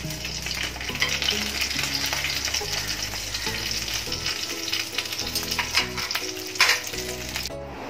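Stuffed capsicum fries in a pan with a steady, close sizzle, joined by occasional scraping and clattering as the peppers are turned, while a low tonal music bed runs underneath.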